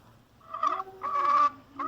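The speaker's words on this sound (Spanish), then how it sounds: "escuchó el canto de una gallina" A hen's harsh, drawn-out calls repeat in three bursts, fairly close and loud, with no voices present.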